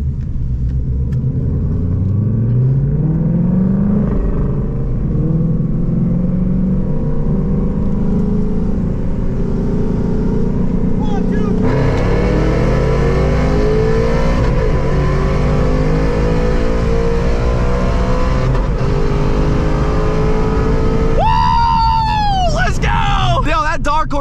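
A Ford Mustang Dark Horse with a 10-speed gearbox accelerates hard in a roll race. The loud, close engine note climbs repeatedly, with brief breaks at the gear changes, and roars continuously for about twenty seconds.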